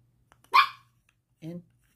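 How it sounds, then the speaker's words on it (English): A pet dog barks twice indoors, a sharp loud bark followed a second later by a shorter, lower woof, close by against a quiet room. "And Karen needed to bark at nothing."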